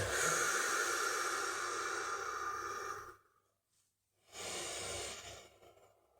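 Deep, close breaths taken during a shoulder mobility stretch: one long airy inhale or exhale lasting about three seconds, a short silence, then a second breath, soft and alone with no speech.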